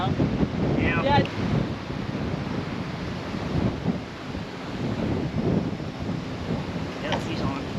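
Strong wind buffets the microphone on a cold, windy day of fishing outdoors, a continuous low roar with gusts rising and falling, and brief faint voices near the start and end.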